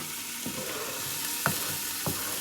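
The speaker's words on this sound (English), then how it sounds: "Then I'm going to add the trinity. What is the trinity? The trinity is onions, peppers, and celery." Onions, peppers and celery sizzle in a roux for seafood gumbo, a soft, steady frying hiss with three distinct spoon-stirring scrapes in the pan.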